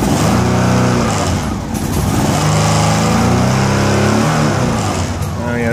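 A fuel-injected 1989 Honda Pacific Coast PC800 motorcycle engine runs close and loud, chugging unevenly with a few throttle blips before settling into a rough, steady idle.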